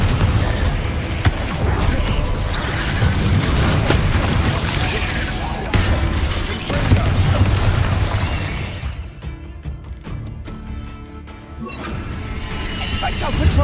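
Confringo explosion spells cast in modded Hogwarts Legacy, dense loud booms and crashing blasts layered over a busy game soundscape, continuous for several seconds before a brief quieter stretch and another surge.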